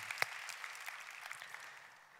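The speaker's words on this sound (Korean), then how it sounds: "다시 한번 박수로 인해주겠습니다" A church congregation at a Sunday worship service gives a round of applause, soft and somewhat distant, with one sharp clap standing out early before the clapping thins and fades.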